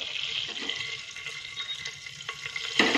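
Whole cardamom pods and bay leaves sizzle in hot oil and butter, a steady bright crackle close by with a few stirring clinks and a sharp burst of spitting near the end; no voices.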